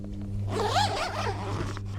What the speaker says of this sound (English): Unzip